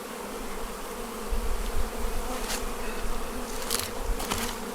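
Honey bees buzzing around an open nuc hive in the Ozarks, a dense close drone of many wings with individual bees swelling louder as they pass near, no talk.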